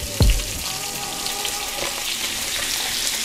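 A salmon fillet sears in butter in a hot pan just after being flipped, with a steady, loud sizzle throughout and a brief thump near the start.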